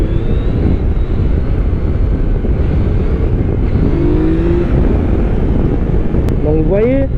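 A Yamaha MT-07 or Tracer 900 motorcycle engine roars steadily and loudly during a wheelie with heavy wind rush, the revs briefly rising and falling near the end.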